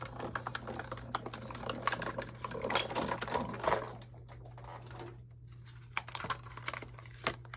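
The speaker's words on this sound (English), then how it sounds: "And we'll just die cut this out." A die cutting machine runs card stock through its plates, giving off soft rattling clicks and mechanical ticks over a steady low hum, close by and fairly quiet, with a brief lull partway through.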